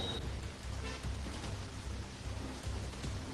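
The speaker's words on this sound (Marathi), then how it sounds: "गेल्या तीन दिवसांपासून मुंबईमध्ये पाऊस बरसतोय" Heavy monsoon rain pours down in Mumbai as a steady, dense wash of noise with a low rumble underneath, continuous and fairly loud throughout.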